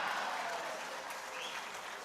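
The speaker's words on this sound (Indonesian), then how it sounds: "sedikit-sedikit tepuk tangan. Tepuk tangannya keras lagi." An audience at a national working meeting claps throughout, producing a dense continuous patter of many hands at a moderate level with no voices over it.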